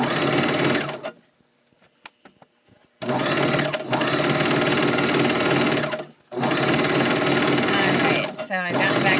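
A brand-new sewing machine runs loud and steady, stitching fabric for a girls' peasant dress, with a couple of pauses where the motor stops and then starts again.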